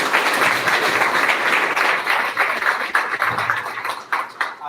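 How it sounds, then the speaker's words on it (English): A conference audience applauds after a talk on trade and industrialization, dense clapping that rolls on evenly before thinning and turning more scattered toward the end. "Another round of applause"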